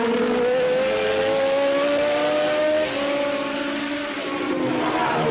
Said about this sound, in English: Hunt flies past the slowing Jarier.